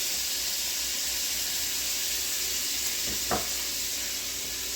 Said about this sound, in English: So I'm gonna drop some carrots in here. Drop the celery.